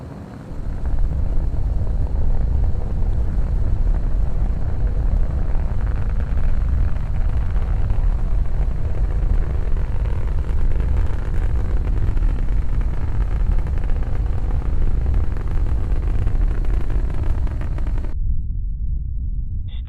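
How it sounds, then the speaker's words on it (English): A Falcon 9 first-stage booster (1082) fires its engines during a landing burn, making a loud, steady, continuous roar that fills nearly twenty seconds before cutting off abruptly near the end. "Landing burn underway and coming through the cloud deck."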